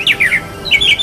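Birds call in a short, loud flurry of harsh, squawking chirps, close by and with no talk.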